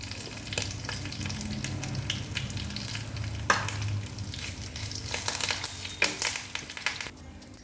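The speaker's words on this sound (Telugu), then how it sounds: "పోపు ఇందులో తిరగమాత వేసేసుకున్నామండి" Tomato and tempered spices (dried red chillies, garlic, cumin, mustard seeds, curry leaves) frying in a pan for tamarind dal, a steady close sizzle with stirring scrapes and crinkly crackle throughout.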